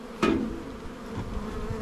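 Honeybees at a hive being readied for winter give a soft, steady buzzing hum, with one sharp knock or tap early on and faint handling noises in the background.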